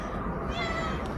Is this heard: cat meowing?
yes